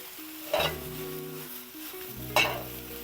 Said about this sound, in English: I'm gonna put my mushrooms in there, start sauteing those